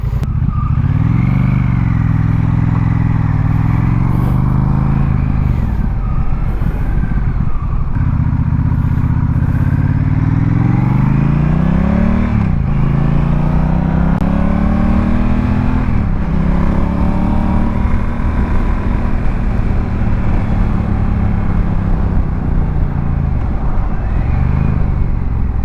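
A Honda Rebel 1100T motorcycle exhaust roars loudly as the engine revs up and shifts through gears repeatedly, pitch climbing and dropping, close to the microphone.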